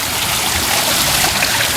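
Water trickles and splashes steadily down a rain chain fountain in a display garden, a continuous, fairly loud hiss of falling water with no pauses and no voices.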